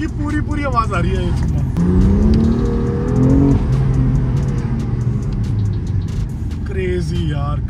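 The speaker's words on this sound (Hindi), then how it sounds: "you can actually feel the intake making noise" A BMW M2 fitted with an Armaspeed carbon fiber intake revs up close and loud, its engine rising and falling through several throttle blips with intake whoosh.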